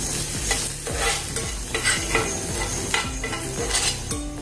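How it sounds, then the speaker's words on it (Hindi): Green chillies and ginger garlic paste fry in a hot pan, a steady sizzle broken by repeated scraping strokes of a spatula stirring the mixture, close and fairly loud with no talk. "अभी इसमें हरी मिर्च डालेंगे, साथ में हम अदरक लहसुन का पेस्ट भी डाल देंगे। थोड़ी देर इसको भी भून लेंगे।"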